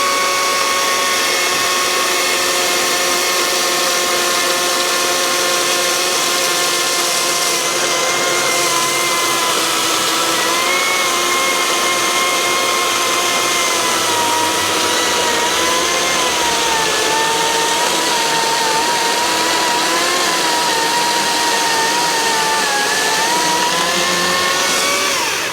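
A sawmill blade runs steadily through a white oak log being quarter sawn, a loud continuous whine with shifting pitch as the cut progresses, no voices present.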